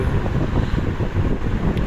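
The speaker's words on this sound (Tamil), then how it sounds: "அது மழை வர டைம்னால நல்லா காற்று, செம்ம காற்று அடிக்குது" Strong gusty wind blows outdoors ahead of incoming rain, buffeting the microphone with loud, continuous low roaring and fluctuating rushes.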